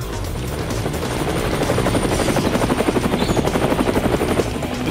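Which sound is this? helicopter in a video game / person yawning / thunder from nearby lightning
helicopter in a video game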